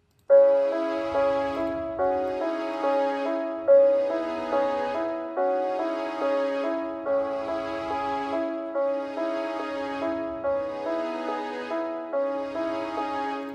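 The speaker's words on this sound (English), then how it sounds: "So this next one is called Full Strings Legato Sordino. And I just laid some basic chords over the piano." Full strings in legato sordino play basic muted chords layered over a piano progression, smooth sustained harmonies pulsing in even phrases with soft low thumps beneath, no talking.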